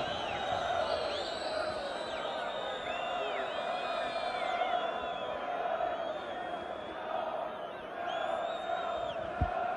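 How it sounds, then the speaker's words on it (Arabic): A football crowd of Béjaïa supporters fills a stadium with continuous cheering, chanting and whistles at a steady, dense level throughout, with no commentary over it. "هذا هو الجمهور البجاوي الذي ينتظر بشغف"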